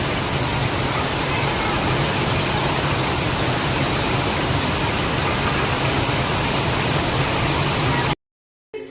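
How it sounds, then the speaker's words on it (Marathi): Heavy rain pours in a loud, dense, unbroken roar for about eight seconds, then cuts off abruptly near the end. "आणि पाऊस किती येतोय."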